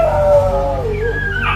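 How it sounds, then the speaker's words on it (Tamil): Stray dogs roaming in a large pack on a city street, one drawn-out howl sliding downward then rising into a higher whine, fairly near and alone over steady street rumble. "நாய்கள்லாம் வந்து பயங்கர கூட்டமாக சுற்றிட்டுருக்குது"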